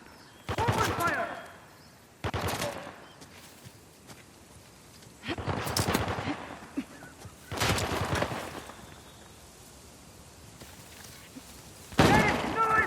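Gunfire in the video game Uncharted: The Lost Legacy rings out in heavy, loud bursts of rapid shots, each lasting about a second and repeating every couple of seconds over steady game ambience.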